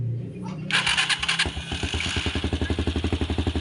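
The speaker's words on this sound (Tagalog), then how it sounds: "So pag pinandar natin yung ating motor, so dapat tataas yung reading" A motorcycle engine cranks with a starter whir, catches and settles into a steady, rapid idle putter, close and fairly loud, with no talk over it.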